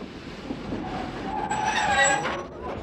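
A Danish passenger train from the 1945–1970 era rolling along railway tracks, a steady rumble with metallic wheel squeal rising through the middle, heard fairly close and without talk.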